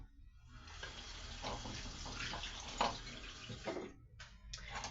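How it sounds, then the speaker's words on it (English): Running water from a kitchen tap as hands are washed under it, a steady broadband splash lasting the whole stretch with brief shifts in flow and a faint stop near the end. "I'll just wash my hands quickly."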